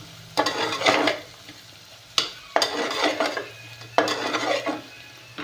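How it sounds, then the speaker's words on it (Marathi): Ginger-garlic paste masala roasts in a pan while a spoon stirs it, producing three bursts of scraping and sizzling frying noise separated by short quieter pauses. "हे हलवायचं भाजायचं"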